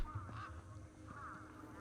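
Geese-like birds in the video game Beyond a Steel Sky give two clear bursts of honking about a second apart, over a steady low game ambience.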